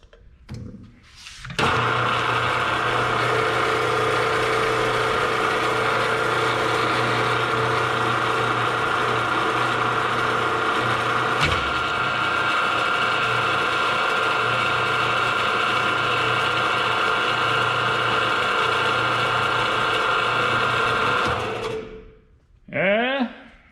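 A machine runs steadily for about twenty seconds while threaded holes are tapped in a steel swingset bracket, a continuous whirring drone that starts and stops abruptly, with brief handling noise at either end.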